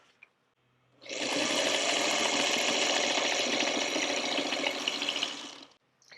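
A sewing machine stitches quilt fabric for a card trick quilt block, running in one steady, loud, continuous whir for nearly five seconds before stopping abruptly, with no voices.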